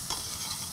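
Onions sizzle and fry steadily in a hot pan, and a short stirring scrape is heard near the start.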